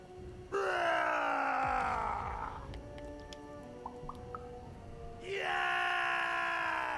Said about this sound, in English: Can you scream hard enough to make strangers die?